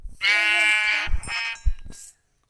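Several loud, close Minecraft sheep bleats in quick succession, with a short pause before a final faint bleat.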